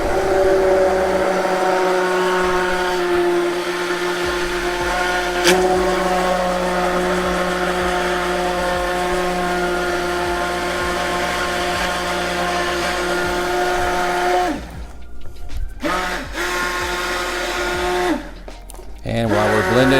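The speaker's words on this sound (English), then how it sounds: "And while we're blending, I'm going to add the other half teaspoon." A blender runs steadily, close and loud, whirring through hot sauce with xanthan gum, its motor pitch dipping briefly near the end.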